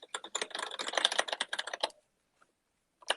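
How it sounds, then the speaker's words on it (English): Rapid clacky keystrokes on a mechanical computer keyboard, a dense burst of typing for about two seconds, then a pause and a few more keys at the end, heard alone without talk. "tapping away on his mechanical keyboard"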